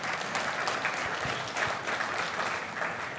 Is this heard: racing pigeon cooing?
no